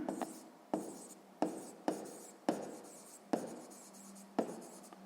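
Pen or pencil strokes on paper while working a sixth-grade math exercise by hand: about eight sharp taps, each followed by a short scratching scrawl, close and clear with no voices.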